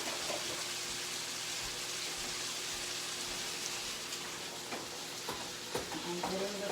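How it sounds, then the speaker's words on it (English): Ground meat browns in a pan for keto chili, a steady close sizzle with occasional stirring scrapes and clicks toward the end. "I'm getting the meat browned for 2 pounds of meat."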